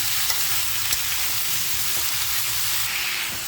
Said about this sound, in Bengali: ভাজি যত সুন্দর করে নাড়বা ততই টেস্ট হবে